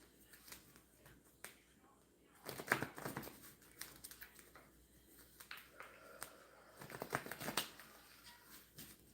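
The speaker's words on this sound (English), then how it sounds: "let's shuffle and clarify" Tarot cards are shuffled close by in irregular bursts of soft riffling and flicking, quiet between the busier stretches, with no talking.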